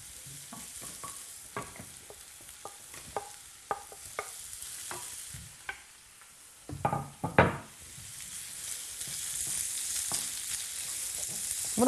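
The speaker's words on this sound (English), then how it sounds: "I'm now going to add in the fish." Fish being stirred and fried in a pan with onions, with a soft sizzle under repeated scraping and stirring clatter that grows louder in the middle before the sizzle swells toward the end.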